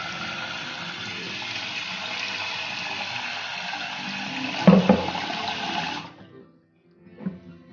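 Water pours steadily into a vessel of green gram and fenugreek set to soak, a continuous splashing fill lasting several seconds, then a brief clunk and quiet.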